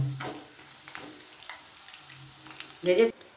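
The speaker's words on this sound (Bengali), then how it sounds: "উল্টে পাল্টে লাল করে ভেজে নেব।" Lentil fritters made from biuli dal fry in oil in a kadai, giving a steady, soft crackling sizzle throughout with a brief louder clatter near the end.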